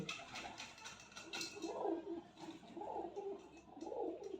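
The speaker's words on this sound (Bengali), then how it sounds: "কত পায়রা আসছে খেতে" Pigeons cooing on an open balcony: soft, repeated throaty coos in a gentle rolling rhythm, faint and nearby, after a few light clinks at the start.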